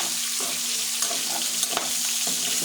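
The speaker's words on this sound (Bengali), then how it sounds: "আমার মুরগির মাংসটা প্রায় ভাজা হয়ে গেছে" Chicken meat frying in a pan, a steady close hiss and sizzle with a few light stirring clicks and scrapes and no voices.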